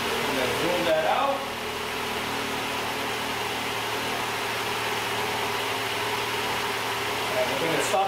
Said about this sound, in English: we're going to stop the engine and take a close look at this